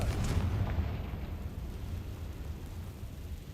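An Expelliarmus spell effect in the video game Hogwarts Legacy, heard as a rumbling, explosive whoosh that hits hardest at the start and then fades into a sustained low roar.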